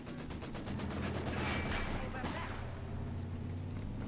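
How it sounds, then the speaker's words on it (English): Machine gun fire in the Company of Heroes 2 video game, a steady stream of rapid bursts over dense battle noise and rumbling, continuous and loud throughout. "Taking MG fire!"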